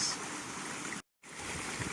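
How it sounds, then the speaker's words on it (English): Loud, continuous rush of a flooded river after torrential rain in North Cornwall, a broad roaring flow heard up close, briefly cutting out to silence before resuming. "this river is just in flood at the moment"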